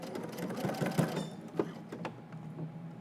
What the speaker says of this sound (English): we're going to go ahead and stitch in the ditch, which means you want your needle to be right in that seam line.